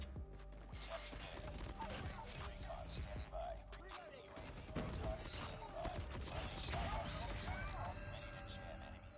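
Rapid bursts of gunfire in the mobile shooter COD Mobile crackle densely through the scene, with mechanical weapon clatter mixed in and a player talking over the action.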